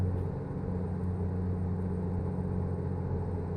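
A truck engine in American Truck Simulator holds a steady, low, continuous rumble at even loudness throughout, with no talk over it.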